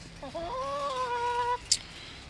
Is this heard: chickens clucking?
yes